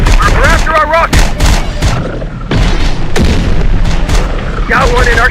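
Heavy gunfire and booming explosions from Terminator Dark Fate Defiance fill the scene in loud, overlapping bursts with artillery-like thumps, while voices speak over the battle noise.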